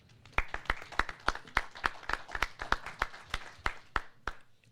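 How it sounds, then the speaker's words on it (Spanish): Sparse, distinct claps ring out at a legislative panel discussion, a dozen or so sharp hand claps in an uneven rhythm, close and fairly isolated rather than a full crowd. "a quien recibimos con un fuerte aplauso"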